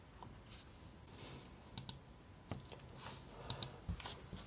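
Sharp mouse clicks while creating an event in Google Analytics 4, a few crisp, close taps scattered over a quiet room background with no talking.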